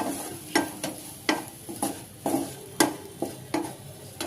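Coriander powder stirred into the spiced masala for stuffed bitter gourd (bharwa karela), a spoon scraping the pan in about a dozen quick, close strokes over a low, steady sizzle with no talking.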